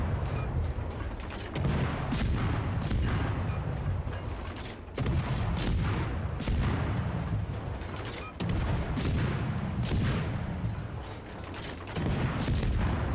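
Ship guns firing in World of Warships Legends, heavy booming salvos at irregular intervals over a constant low engine and sea rumble, loud and close.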